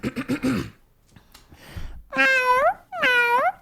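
A person's voice imitates a cat, giving two drawn-out meows in a row after some brief breathy sounds.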